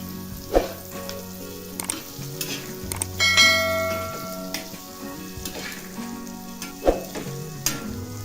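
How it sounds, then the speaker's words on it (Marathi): Cashews roasting in oil with asafoetida in a pan on high gas, with a crackling sizzle, scattered stirring clinks and a few louder knocks of the spoon against metal. "गॅस म्हणजे मोठा करून काजला असं चांगलं भाजून घ्यायचं"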